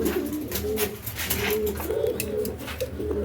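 A pair of American Putul Satin pigeons cooing close by, repeated low throaty coos in a steady rhythm over faint background noise.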